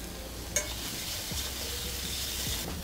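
Bora beans frying with onions in garlic ginger oil in a pan, a steady broadband sizzle throughout with occasional light clinks of a utensil against the pan.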